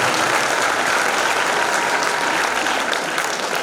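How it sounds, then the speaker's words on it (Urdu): Loud, sustained applause from a crowd at a school's annual day event, honoring a speaker, with dense clapping holding steady from start to finish and no talking over it. "ایک بار تالیاں ہمارے حافظ اسرار صاحب کے لیے."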